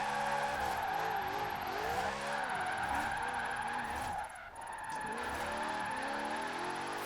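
A Lexus RC F in Forza Horizon 4 with its tyres squealing in long wavering skids over a loud, sustained engine drone, briefly easing off before the screech picks up again.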